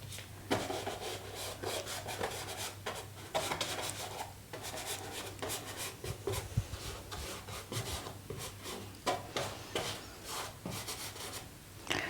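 Brush strokes sweep across a painting surface as a beach shack scene of sand and grass is painted, making soft, repeated rubbing scratches in irregular bursts, quiet and close, with no speech.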